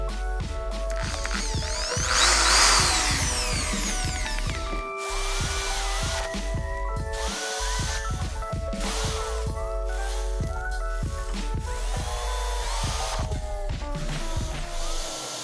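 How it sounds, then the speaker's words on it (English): A power drill with a 3mm bit whirs and grinds through material in repeated bursts, making holes, with mechanical rattling and brief pauses between passes, close and fairly loud. "I used a 3mm drill bit to make holes on the angles of the cutout mark."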